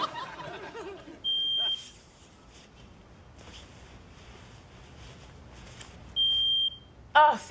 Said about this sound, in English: You're also going to want to test your smoke detectors and carbon monoxide detectors.